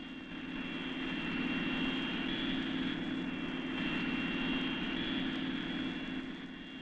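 Supersonic military jet engines, such as those on interceptors and four-engine B-58 bombers, roar steadily with a sustained broadband rumble and a high whine. The sound is loud and constant throughout, with no voices.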